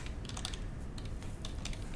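Rapid, light keystrokes on a computer keyboard tap in quick irregular bursts over a steady low background hum. The typing is close but soft, and no voices are heard.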